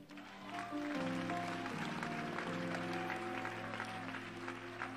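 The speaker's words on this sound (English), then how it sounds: "keep clapping if I'm talking to you" A church congregation claps steadily through a Sunday service, the applause spread under loud worship music with sustained keyboard chords throughout.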